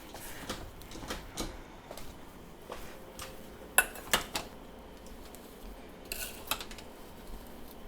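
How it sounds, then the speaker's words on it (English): White sugar being stirred into apple butter in a slow cooker crock, with a spoon scraping and knocking against the pot in scattered light clinks and taps, a couple of sharper knocks midway, fairly quiet overall. "I'm just getting 2 more cups of white sugar stirred in."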